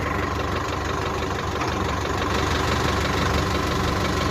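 A tractor engine runs continuously while a JCB loads it with soil, a loud, steady, rumbling idle with a faint knocking texture and no talk.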